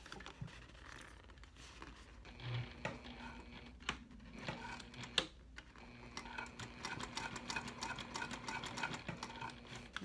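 Sewing machine stitching an all-cork dollie from the inside with a narrow seam allowance, quiet rapid needle ticking in short runs that grow busier toward the end, with brief pauses.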